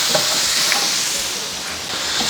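Food sizzles and hisses steadily in a hot pan as it is sautéed with salt, with faint stirring clinks now and then, a constant close frying sound.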